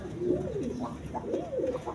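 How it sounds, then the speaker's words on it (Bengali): Pakistani teddy pigeons coo in soft, warbling, rolling phrases, close and steady throughout the short stretch, with no talk. "এটা হলো মূলত আপনার পাকিস্তানি টেরি কবুতর"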